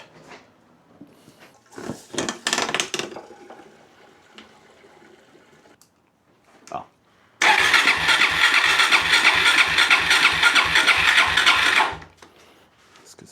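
A friend's motorcycle with a freshly fitted fuel filter and fuel hose cranks with a few short bursts, then starts and runs loud and steady with a rapid, even exhaust pulse for several seconds before cutting off.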